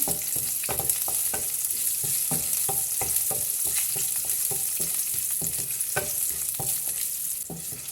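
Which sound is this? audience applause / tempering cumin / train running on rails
tempering cumin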